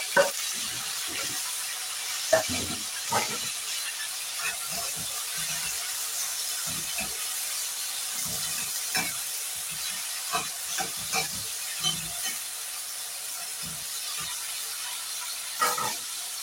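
Tomatoes cooking in a covered pan give off a steady low hiss of steam and faint sizzling. Scattered soft knocks and clinks run through it, and there is no talking.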